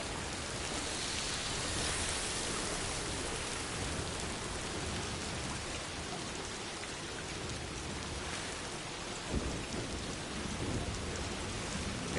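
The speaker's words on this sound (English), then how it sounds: "It's raining out in this desert of Mexico." Steady rain pours across a Mexican desert in the video game Death Stranding 2, a dense, even hiss that runs the whole way through with a few faint thumps near the end.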